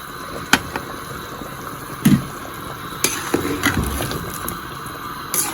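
Rice and carrots for a vegetable pulao are stirred in a pot, with a few sharp scrapes and clanks of a spoon against the metal over a faint sizzle, no talking.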